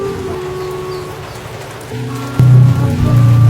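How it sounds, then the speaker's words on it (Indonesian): Rain falling steadily as a thunderstorm sets in outdoors, a continuous broadband hiss with a louder, rougher patch near the end and no talk over it. "Hujan nih."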